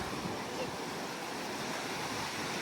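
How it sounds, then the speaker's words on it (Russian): Sea waves washing onto a beach beside a pier, a steady broadband roar of surf with wind noise, continuous and fairly close, with no talking. "Люди на пирсе, видите, наслаждаются шумом волн."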